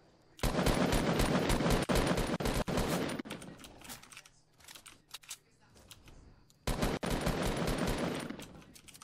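Rapid automatic gunfire rattles loud and close in a video game, in two long sustained bursts separated by scattered single shots and quieter gaps.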